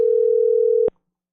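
Steady telephone dial tone on a call being placed, a single sustained pure hum lasting under a second that cuts off sharply with a click, then silence.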